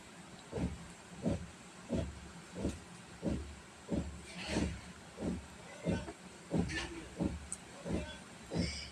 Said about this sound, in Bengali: তারপরে দিয়ে দিচ্ছি সবজিটা, শসা আর আলুটা।